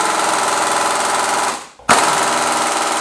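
An impact wrench at work on a Porsche 911 Turbo build, a loud continuous rattling hammer that cuts out briefly and then resumes at full force.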